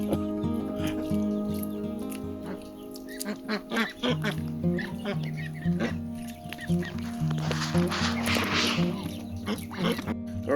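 Muscovy ducks quacking and honking near young growing birds, repeated calls in a noisy outdoor pen with steady background hum.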